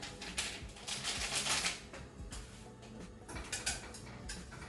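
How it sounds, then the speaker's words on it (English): Whisk beating a béchamel sauce made from a white powder mix with milk for beef lasagna, a steady scratchy rattle of metal against the bowl in quick strokes, close and fairly loud, with no talking. "Then we're going to whisk it to let it all dissolve in"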